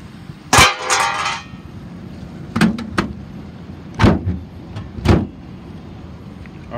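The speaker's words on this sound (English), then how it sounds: "Let me go ahead and close this hood" A car hood on a 2013 Chevy Caprice police unit, one that will not stay up, is handled and shut: a loud slam near the start, then several sharp metallic thumps and clunks spaced through the clip, close by, with no talking.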